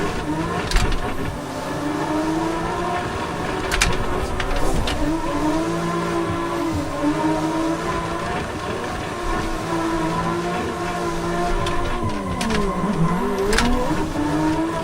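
A van's engine revs loudly and steadily while drifting in the BeamNG driving game, with the pitch sweeping up and down through shifts and a continuous droning mechanical hum throughout, no talk.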